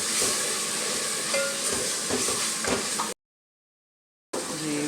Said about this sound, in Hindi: अब ये पालक डाल के ये भूनूँगी, थोड़ी देर भूनूँगी पालक को